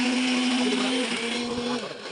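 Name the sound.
mixer grinder blending a biscuit milkshake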